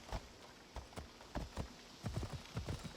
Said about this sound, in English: It's the immortal horse Abraxas.